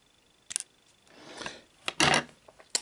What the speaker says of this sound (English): Now we're just going to cut that tag end off.